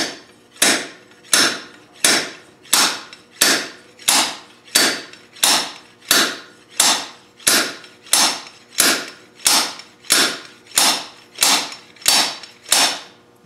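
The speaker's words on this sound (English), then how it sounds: "Oh, it broke the bolt" A seized bolt is forced with about nineteen evenly spaced, sharp metallic blows, each ringing briefly and then decaying. The strikes are close and loud, with no talking.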